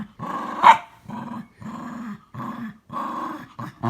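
Dog growling in play over a ball, a run of rough, throaty growl bursts in steady rhythm with short gaps between, close and fairly loud, plus one sharp yip early on.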